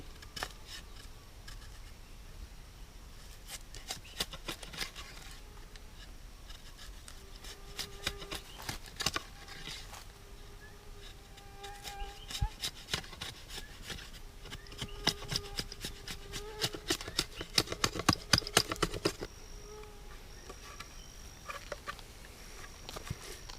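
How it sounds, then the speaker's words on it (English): A knife scrapes and slices a groove into a length of bamboo for a speargun trigger, making repeated close rasping strokes in uneven bursts, some rapid and clustered, with no speech. "just slice a groove in the bamboo"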